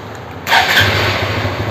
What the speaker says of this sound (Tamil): பைக் ரிமோட்லேயே ஸ்டார்ட் ஆகுது.